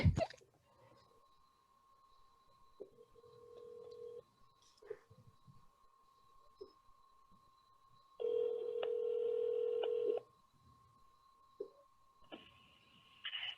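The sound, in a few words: phone dialing and ringing a congressional office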